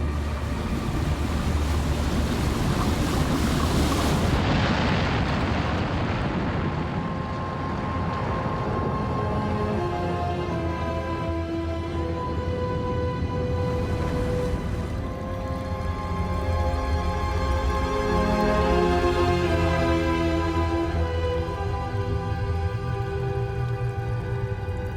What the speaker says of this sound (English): The wave, 100 kilometers long, surges through the streets for hours before it begins to ebb.